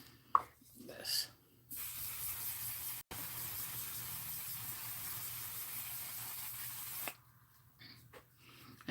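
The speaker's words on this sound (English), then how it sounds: "let me spray my face" A spray bottle mists a face with one long, continuous hiss lasting several seconds, loud and close, framed by brief quiet handling noises before and after.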